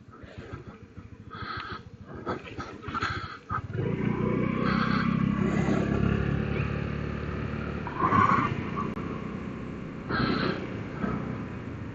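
A Honda Navi mini motorcycle rides along an ATV trail. Brief handling noises come first, then the small engine settles into a steady, close drone that holds for the rest of the stretch with slight rises in pitch.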